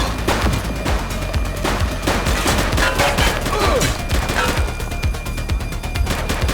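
Rapid, dense gunfire from a police shootout in the video game The Precinct, sustained bursts of shots running without pause for the whole stretch, loud and close.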